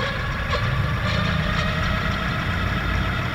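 An electric bike motor runs at full throttle, a steady, loud mechanical whine and hum that holds constant with no pauses or talking.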